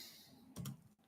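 A few quiet keystrokes on a computer keyboard, a couple of soft separate clicks in a calm room with no talk.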